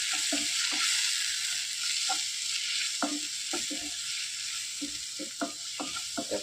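Spice powder being stirred and sautéed in a pan for a spicy jackfruit-seed chilli curry, a steady sizzle with repeated scraping strokes of a spoon against the pan, close and without talk.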